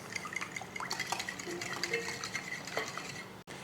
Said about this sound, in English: Now we're just going to whisk these wet ingredients to combine.